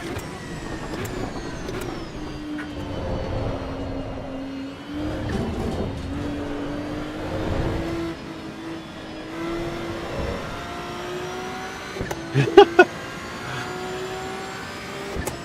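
A race car in Assetto Corsa EVO warming up its tyres, a steady engine drone that slowly climbs in pitch, with a few sharp clicks and knocks near the end and no voices.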